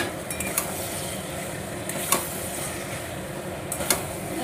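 Marinated chicken stirred into a sizzling, well-fried spice masala, a steady low frying hiss with a few sharp spoon-against-pan clinks scattered through, close and fairly quiet with no talking.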